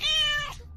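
A cat meows once, a clear, fairly loud, drawn-out tonal call lasting under a second that fades at the end, heard alone with no talk.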